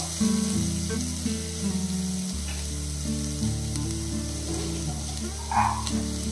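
Onions sauté in a pan for a cauliflower kurma, giving a continuous close sizzle that stays level throughout under a steady tonal background, with no talking.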